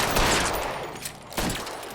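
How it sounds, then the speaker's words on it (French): Rapid gunfire from the L.A. Noire video game, dense overlapping shots crackling loudly and continuously, with a sharper burst near the end. "Mais je vais lui mettre combien de balles dans le corps lui?"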